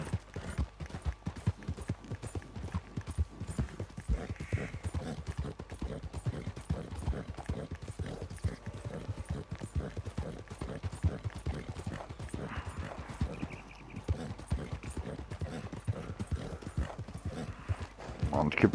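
A horse gallops in a hunting video game, its hooves beating a fast, even clip-clop rhythm that continues unbroken at moderate volume, with occasional faint mechanical clicks.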